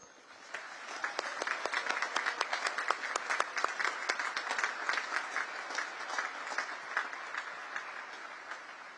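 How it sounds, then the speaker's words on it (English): Graduation ceremony audience at the U.S. Naval Academy breaks into sustained applause, a dense wash of many hands clapping at a steady, loud level for the full stretch with no voices on top. "please join me in giving them a heartfelt round of applause"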